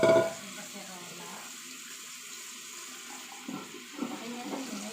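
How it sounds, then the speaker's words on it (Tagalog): Water poured into a cooking pot while making a razor clam soup: a brief loud splash at the start, then a softer, steady trickle and splashing for a few seconds. "magdalhin tayo ng tubig sa kaserola"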